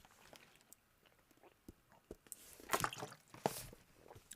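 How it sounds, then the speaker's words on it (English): Someone drinks Poland Spring bottled water during a break, with soft sips, gulps and liquid sloshing, faint and close, followed by a couple of louder plastic bottle crinkles. "Just a little water break here."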